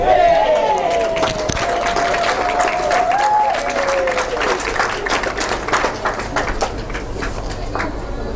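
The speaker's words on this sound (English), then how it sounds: "That applause was for a great shot from the Jersey skip, Gus." Crowd applause at a lawn bowls final between Jersey and Scotland in Paphos, Cyprus, rewarding a fine shot from the Jersey skip, with scattered claps over steady outdoor ambience while a commentator's voice runs across the top.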